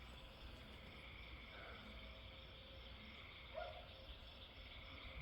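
Steady night insect chorus of crickets mixed with frogs at a camp and retreat in rural Iowa, a continuous faint high trilling with a soft low hum beneath, no voices.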